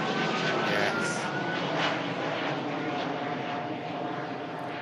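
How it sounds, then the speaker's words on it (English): A KLM Embraer E2 jet departing for Amsterdam roars steadily at an airport, a loud, sustained broadband engine rumble that fades slightly toward the end, heard alone without talk. "KLM E2 on the way back out to Amsterdam"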